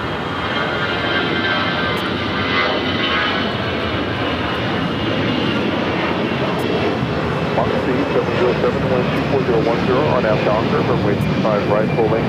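Delta Boeing 787-9 Dreamliner jet taking off full length on runway 25 right at LAX, a sustained loud engine roar in the distance with people talking over it.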